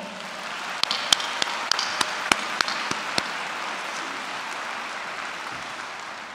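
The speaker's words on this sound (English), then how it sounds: "Let's give him a big round of applause." Scattered claps from a commencement audience at a Collin College graduation ceremony, a handful of sharp, separate hand claps over a steady hall murmur, thinning out and fading after a few seconds.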